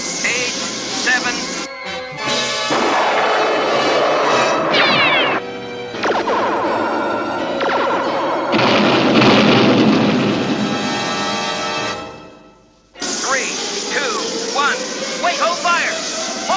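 Roaring rocket launches and crashing blasts fill the scene, with loud bursts broken by short quiet gaps and rumbling between them.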